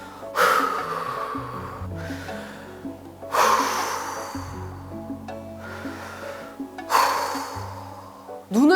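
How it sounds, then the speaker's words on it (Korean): Three deep breaths, each a long loud inhale and exhale spaced about three seconds apart, close to the microphone with a soft hum underneath. "그래서 심호흡을 크게 3번 정도 쉬어주세요."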